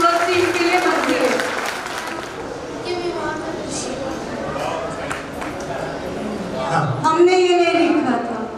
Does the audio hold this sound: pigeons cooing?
no